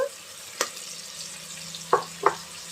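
Vegetables cook in a pan with curry leaves and ginger-garlic paste, a quiet steady sizzle under a few sharp clinks of a stirring spoon, heard close by.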